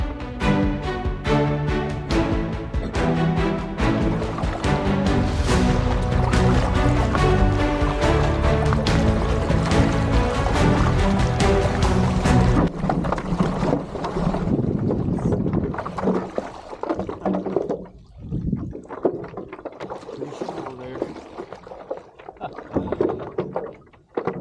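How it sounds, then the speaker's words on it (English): Paddling out on open water for a warm-up before a 10K time trial, with a steady wash of water and wind noise under dense background music, ending in rougher, uneven splashes and thumps. "Going to go out for a little warm-up paddle now."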